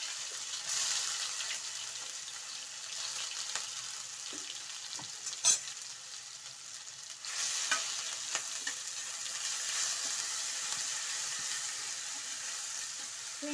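Garlic-ginger paste and green chili paste fry in oil with mustard seeds and cumin for masala idli, a soft, steady hiss with faint stirring clicks and a brief louder scrape midway.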